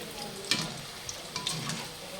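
Kebabs fry in hot oil at night, with a steady sizzle running throughout and a few sharp clinks and stirring knocks over it.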